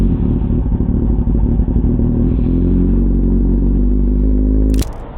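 A Kawasaki Ninja 1000 SX motorcycle engine runs close and loud at a steady idle-to-rev drone, then cuts off abruptly near the end.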